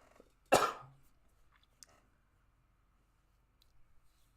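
A single sharp cough from a man with allergies, close and brief, followed by faint background noise in an otherwise quiet room.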